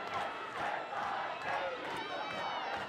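Home crowd roaring at an Arsenal versus West Ham women's football match, a sustained stadium cheer with whistles and shouts rising and falling, heard from a distance.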